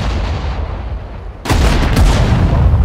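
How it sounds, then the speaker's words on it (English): Artillery fire in the World War II strategy game Sudden Strike 4 during a D-Day mission: a sudden loud broadband blast halfway through, followed by sustained rumbling booms and crackling impacts after a quieter stretch of battlefield noise. "Artillery, fire!"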